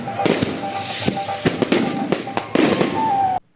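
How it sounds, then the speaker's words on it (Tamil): Rocket fireworks burst at a Pambalamman temple festival, with a string of sharp cracks and bangs, some close and loud, over a constant crackling and crowd noise, ending abruptly. "இந்த ராக்கெட் வெடி பற்ற வைக்கிறாங்க பாருங்கள்"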